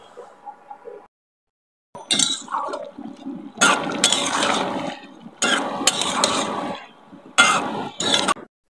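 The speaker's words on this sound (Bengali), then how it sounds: "তো এর জন্য মাছ কষাচ্ছি, মাছের সাথে হচ্ছে আলুও কষিয়ে নিব" Fish and potatoes stirred and sautéed in a pan, bursts of scraping and sizzling stirring in several spaced runs with short pauses between, close and moderately loud, no talk.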